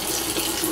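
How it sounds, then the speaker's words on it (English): A tap runs steadily into a sink to rinse a lace closure, a brief, close, continuous splash of water. "Okay, so now I'm just gonna rinse the closure."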